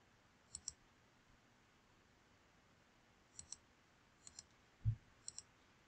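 Computer mouse clicks from someone uploading and arranging sticker images on a design canvas: faint, close double clicks in small pairs, scattered across a quiet room with no talking.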